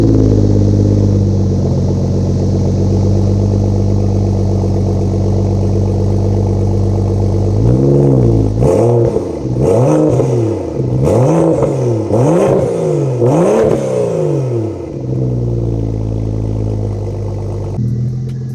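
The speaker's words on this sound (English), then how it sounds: "So this is what the car sounds like when it's somewhat cold." A cold 2014 BMW F30 335i, a 400 hp build, idles steadily before a series of sharp throttle revs rise and fall in quick succession near the microphone, then settles back to a loud idle.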